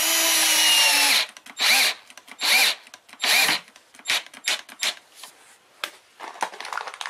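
A power drill whirs into wood in a long burst, then in several short pulses, each ending abruptly, close and loud with no talking.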